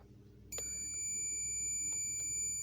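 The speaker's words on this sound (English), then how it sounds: "if it beeps, so it means that the wire is okay" A high multimeter continuity buzzer tone starts abruptly and holds steady, with a couple of faint clicks underneath and low background hum.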